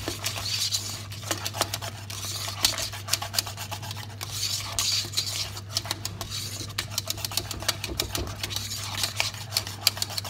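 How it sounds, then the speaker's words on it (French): A whisk scrapes steadily and rapidly against a pan, working butter into pastry cream with the heat off, the close, brisk rubbing strokes continuing throughout over a low steady hum. "On fouette jusqu'à temps que le beurre est bien imprégné dans notre crème"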